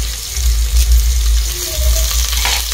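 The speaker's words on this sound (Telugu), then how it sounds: "కర్రీ లీవ్స్ యాడ్ చేసుకుని ఒకసారి కలుపుకోండి." Curry leaves sizzle and fry in a pan with onion and green chillies, a loud continuous crackle with a low hum underneath and faint stirring scrapes.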